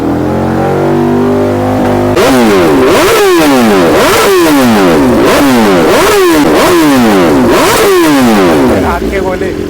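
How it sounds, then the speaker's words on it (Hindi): A BMW S1000RR motorcycle fitted with an Akrapovic full-system exhaust idles, then revs hard in a rapid series of about seven loud, sharp blips, each rising and falling, very close and dominating. "अब इसकी एग्जॉस्ट की साउंड सुनाने वाला हूँ और देखते हैं कैसा साउंड निकल"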